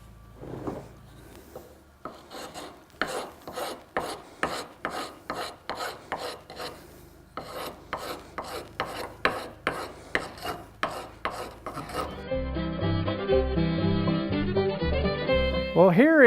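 A rasp works the wood of a tomahawk handle to fit it into the head, a quick run of rhythmic, close scraping strokes in regular bursts, then softer rubbing and faint knocks toward the end.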